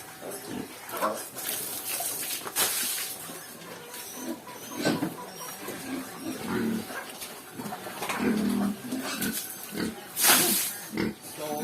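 Water sloshing and splashing while pigs are washed down in a pen, irregular bursts of spray and wet slaps with occasional grunting, fairly close and moderately loud, with no clear talk.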